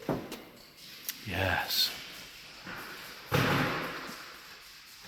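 A classic car door at an indoor auction is handled with clunks and a firm thump as it opens and shuts, close by, with a brief spoken word amid the noise.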